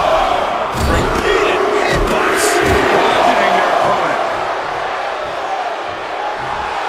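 A large wrestling crowd at WrestleMania 41 roars and shouts in a sustained, dense wash of cheering that rises early and slowly eases, with a commentator-like voice talking over it.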